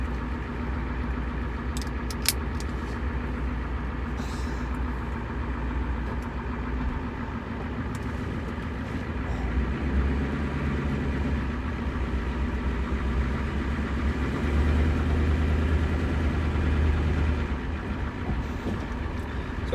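A pickup truck engine running after a repair, a steady low rumbling idle that swells slightly louder partway through, continuous and close with faint clicks and no talking.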